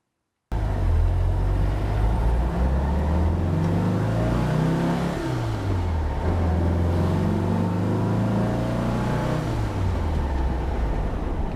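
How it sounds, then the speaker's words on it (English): A Porsche 911 backdate is driven at dusk, its engine loud and close, rising and falling through gear changes with swelling revs and a steady drone between shifts, and no talking. "It's getting dark, but let's take it for a ride anyways."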